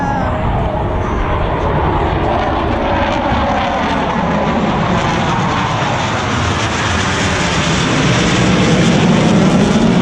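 Aerobatic propeller airplanes at an air show, one flying inverted, produce a loud, continuous engine drone that swells toward the end, with spectators talking underneath.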